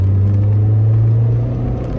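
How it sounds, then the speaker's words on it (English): A 1985 Honda CRX 1.5i engine runs with a loud, steady, buzzy low drone, close and continuous, easing slightly toward the end. "Very buzzy engine"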